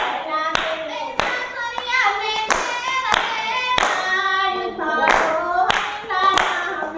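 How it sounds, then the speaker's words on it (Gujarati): Sharp hand claps ring out in a steady rhythm, about one per second, over continuous singing of a Gujarati devotional kirtan. "તાળી પાડો હરિના નામની"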